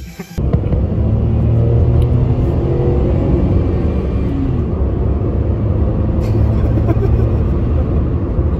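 A car approaching and idling close by, a loud steady low engine rumble with a whirring drone that holds for several seconds after a brief softer start.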